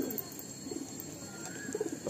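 Soft low cooing from a Madrasi pigeon in a loft, faint murmuring phrases rising briefly toward the end, with a constant background hum and no speech.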